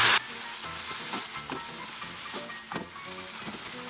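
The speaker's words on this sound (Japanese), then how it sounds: "ひき肉に火が通り色が変わってきたら、水気を切ったナスを入れて炒め合わせます" Ground meat and eggplant sizzle in a frying pan as they are stir-fried, a soft crackling hiss broken by repeated scraping strokes of a utensil against the pan, close and without talk.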